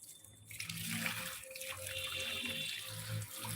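Water splashes steadily from a tap or hose onto garden plants, a continuous close-up gush and patter with no talk.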